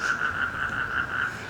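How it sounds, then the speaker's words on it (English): Frogs croak steadily in a garden pond in Bangkok's Thong Lor neighborhood, a pulsing chorus of repeated calls with soft ambient hum beneath, fairly close and uninterrupted by talk. "enjoy the sound of the frogs having sex"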